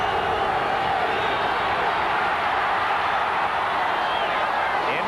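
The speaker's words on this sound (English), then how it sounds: "Jets fans on their feet now cheering the defense." At an NFL game between the Dolphins and the Jets, Jets fans in the stadium cheer the defense in a dense, steady crowd roar that holds at one level throughout.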